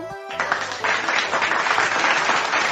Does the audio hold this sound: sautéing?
no